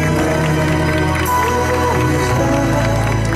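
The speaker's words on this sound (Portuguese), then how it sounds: "Uma salva de palmas para nossa homenageada" A dense, loud wall of audience applause and cheering for an honoree at a tribute event, continuous clapping washing over the room without a break.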